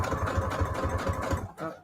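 Sewing machine backstitching fabric tags for journal covers, a fast close rhythmic stitching chatter that runs steadily, then stops abruptly near the end.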